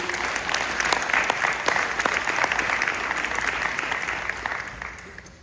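An audience at a Philadelphia budget town hall applauds, a full round of clapping with distinct individual claps that gradually fades toward the end.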